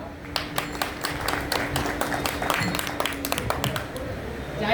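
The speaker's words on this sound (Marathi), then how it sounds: "टाळ्या होऊन जाऊ देत जरा." Applause from an audience at a bhajan singing competition, a dense patter of many hands clapping in short bursts that swell and fade, with a low hum running underneath.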